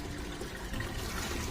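Soaked chickpea cake water poured onto terrace garden plants, a steady liquid splashing and trickling that runs close and fairly quiet through the whole moment, with no voices.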